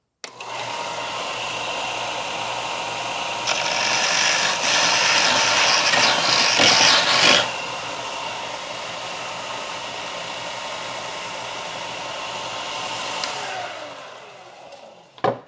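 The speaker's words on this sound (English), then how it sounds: "I'm going to come over here to this sander, and I'm going to get this little jagged edge off." A power sander grinds the jagged edge off a cut piece for a homemade funnel holder, a steady close whine that swells louder when the workpiece presses in mid-way, then winds down at the end.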